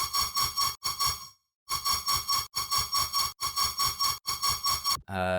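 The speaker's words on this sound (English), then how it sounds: "this top layer bass that's really high pitched that I'm using just to fill up the frequency spectrum" A bright, high-pitched synth bass layer in a dubstep drop pulses in steady repeated notes, with a brief gap partway through and a wobbling tone sweep at the end.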